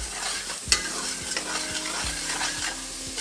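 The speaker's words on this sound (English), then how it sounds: "And just stir fry up this about a few minutes." Cabbage stir-fries in oil with garlic and carrot, a close, lively sizzle broken by regular scraping strokes of a utensil against the pan, with no one speaking.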